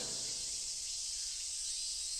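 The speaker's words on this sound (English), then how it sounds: "The cicadas sing their hearts out, the lush vegetation growing, bathed in the sunlight." Cicadas sing in a sunny summer scene of a visual novel game, a steady, dense high-pitched buzzing drone that holds evenly throughout, with no voices.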